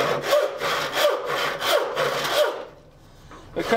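A restored thumb-hole rip handsaw cutting through 3/4 inch wood in a short run, giving about five steady rhythmic rasping strokes up close, then a pause and a final stroke.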